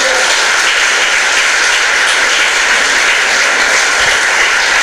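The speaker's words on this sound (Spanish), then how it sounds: "Alguien debe aplaudirle fuerte esta palabra en esta mañana" A church congregation at a Sunday morning evangelistic service applauds hard, a very loud, dense and unbroken roar of clapping that stays constant throughout.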